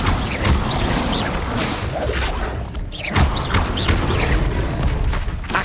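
Repeated Incendio fire spells from Hogwarts Legacy burst out in a dense, loud run of whooshing blasts and crashing booms over a constant roar of combat noise.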